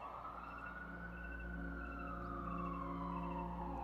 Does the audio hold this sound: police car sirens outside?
yes